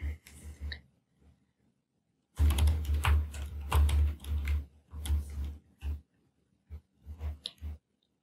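Computer keyboard keys click in quick bursts as a shortcut is typed, close and crisp, with quiet gaps between the clusters of presses.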